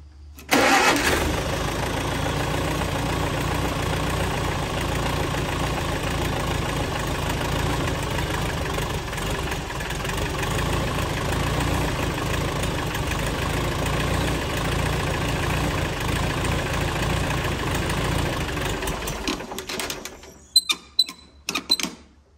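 A 1948 Farmall Super A tractor engine cranks and catches, then runs loud and steady for a long stretch before cutting out, followed by a few sharp knocks.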